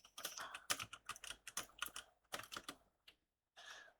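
Quiet clicks from a computer keyboard as a game title is typed into a search box, in quick irregular bursts with a brief pause near the end.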